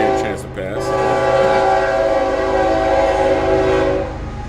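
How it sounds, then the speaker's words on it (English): A passing train sounds its horn in long, loud sustained blasts over a steady rumble of rolling wheels, filling the whole stretch before easing off at the end. "give the train a chance to pass"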